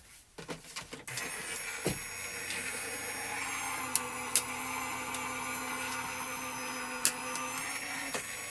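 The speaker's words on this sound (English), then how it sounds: "Run that through my die cutting machine." A die cutting machine runs steadily for several seconds after a few clunks at the start. Its close mechanical hum is broken by occasional sharp clicks.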